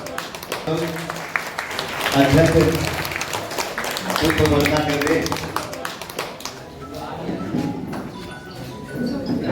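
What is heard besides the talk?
audience applause welcoming a guest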